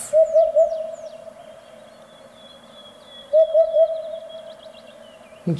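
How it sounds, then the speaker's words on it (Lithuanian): A hoopoe calls with soft, low hooting notes in two groups of three, separated by a pause, with faint chirps from other birds in the background. "Nu, kukutis, pakukok."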